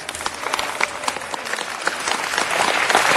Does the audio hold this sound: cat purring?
no